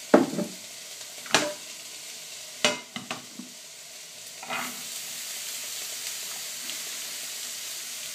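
Vegetables such as courgettes fry in olive oil in a pan for ratatouille, giving a steady soft sizzle with a few sharp clatters of stirring and food dropping in near the start.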